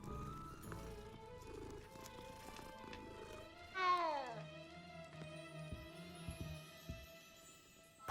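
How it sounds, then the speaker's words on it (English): A cat meows inside the video game Hogwarts Legacy, giving a drawn-out, rising and falling call near the middle over a soft musical game background. "And the kitty."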